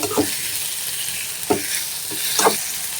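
Tomato and onion fry in a pan with a steady broadband sizzle, broken by three brief scraping stirs, the last near the end being loudest; no one talks.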